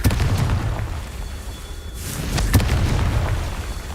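A fire spell explosion in Hogwarts Legacy: a dull boom with a bright burst around the midpoint, rising out of a steady rumbling game backdrop with no talk.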